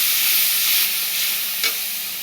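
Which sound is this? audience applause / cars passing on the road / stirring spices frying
stirring spices frying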